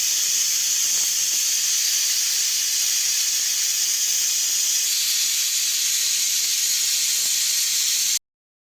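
Pressure cooker whistle releasing steam in a home kitchen while cooking a family lunch, a loud continuous hiss held for about eight seconds before cutting off abruptly, with no talking.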